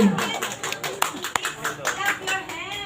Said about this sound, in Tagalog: Palakpakan naman.